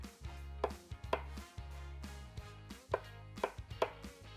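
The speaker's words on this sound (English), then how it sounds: "we're just going to chop these eggs up finely, the yolks and the whites" A knife chops hard-boiled eggs, yolks and whites, finely on a board: a run of sharp, close, fairly loud blade strikes in an uneven rhythm, with brief pauses between bursts and no talking.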